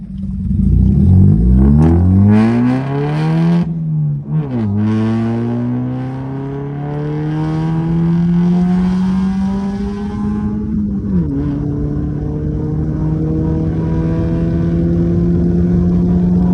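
A car engine starts and revs up, its pitch climbing and dropping through several gear changes as it pulls away on a ride, loud and close with steady engine drone throughout and no talking.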